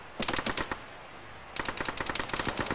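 Automatic gunfire in the ArmA military video game, two rapid bursts of shots separated by a short lull, loud and close.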